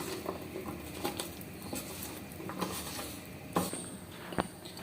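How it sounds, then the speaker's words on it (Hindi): Sliced potato chips for village-style crispy fries being tossed and mixed by hand in a bowl, a quiet, steady patter of wet, squishy rustling with a few sharper clicks, close and faint with no talking. "अब इसे हम अच्छी तरह हाथ के साथ मिक्स कर लेंगे।"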